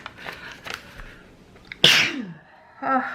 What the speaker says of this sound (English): There's something in the air that's causing me to sneeze this morning